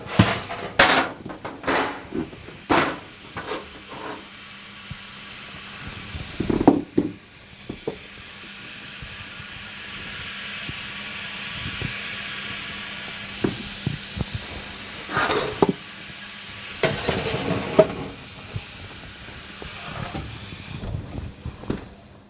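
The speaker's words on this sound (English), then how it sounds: "We've got steam." Steam hissing off a hot oven tray during bread baking, a broad sustained hiss that swells and fades, interrupted by sharp clanks and knocks of metal trays and tins.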